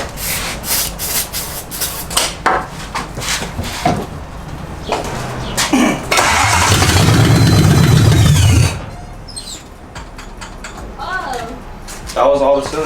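Toyota 1UZ V8 engine swapped into a Nissan S14 cranks with a rhythmic starter whir, then catches and roars loudly for a couple of seconds before cutting out, with people talking before and after.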